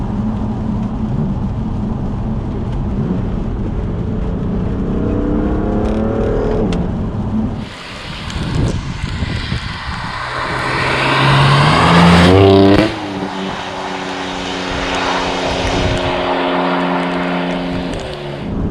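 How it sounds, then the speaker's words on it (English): A BMW F80 M3 with Bootmod3 Stage 2 tune and Akrapovic exhaust revs hard in the wet, rising in pitch with a loud exhaust roar and intake whoosh, then settles into a steady high drone. "You got the induction sound from the front, you got the akrapovic exhaust from the rear"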